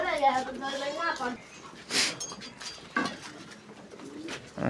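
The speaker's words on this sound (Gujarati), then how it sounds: "તો હવે આપણે કબૂતર બતાવશું." Pigeons coo in a small farmyard coop among cattle and a rooster, soft repeated calls rising under a talking voice with a few bird sounds scattered over several seconds.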